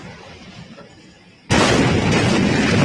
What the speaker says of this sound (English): I don't know what's more impressive, the explosion itself or the damn shockwave of that thing